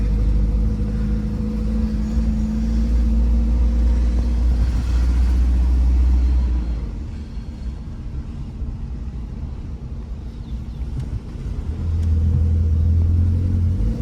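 A Toyota RAV4 engine held at full throttle in limp mode, capped below about 2,000 RPM, produces a loud, steady low rumble and drone from close by that dips briefly midway and then swells again, with no voices.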